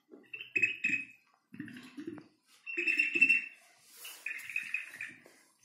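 Warbling, bird-like whistles come in short bursts with pauses between, fairly close and clear, produced by a water-filled whistling clay vessel.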